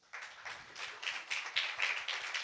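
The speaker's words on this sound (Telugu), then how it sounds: "క్లాప్ కొట్టండి." An audience at a Sunday church service claps in a steady, rhythmic pattern, with distinct hand claps repeating at a regular pace and growing slightly louder. No one speaks.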